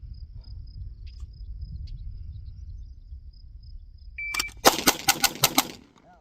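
Handgun shots fired at a target during draw practice: a rapid string of about six sharp, loud cracks in quick succession near the end, after a stretch of quiet outdoor ambience with steady insect chirping.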